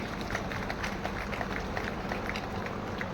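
Dense, steady crowd clapping fills the space at a Hindi comic poetry gathering for a state festival, a continuous wash of many hands at moderate loudness with no voice on top.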